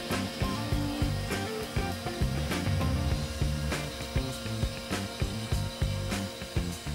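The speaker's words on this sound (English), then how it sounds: "while the CNC is doing its thing" A CNC machine mills oak for a wall clock, giving a steady grinding, rasping cut with rhythmic ratchety clicks and knocks repeating at close range, no talking.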